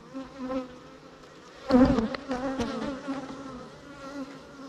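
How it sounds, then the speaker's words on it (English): Honey bees buzz continuously around a hive near a newly installed queen, the drone rising and falling as individual bees pass close, with no talking. "These bees honestly seem to have tamed down with the new queen."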